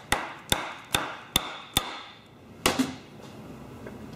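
Sharp metallic taps on the ear of a Briggs & Stratton Intek engine cover, five evenly spaced knocks then a final louder one after a pause, close and ringing briefly, with no talking.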